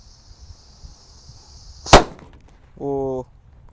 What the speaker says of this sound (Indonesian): Kalau ini mercon kera raja yang buntelan kertas, kita nyalakan.